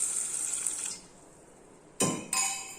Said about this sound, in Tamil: தண்ணி விட்டு நல்லா கழுவிட்டு ஊற விட்டுறலாம்